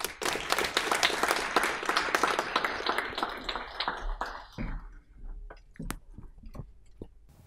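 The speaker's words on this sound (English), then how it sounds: "Please, a round of applause for Hargaran." Applause at a school graduation day at a Sikh academy in Hayes, loud and dense at first, then thinning out into a few scattered claps before fading.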